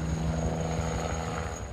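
A steady Tigre attack helicopter engine whine with a low, rapid rotor thump, continuous and fairly close, with no voices.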